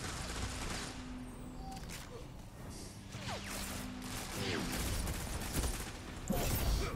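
Slow, spaced bursts of pulse rifle fire in Destiny 2, the Eystein-D, sharp reports spread across several seconds over steady background game ambience, with someone talking faintly at times.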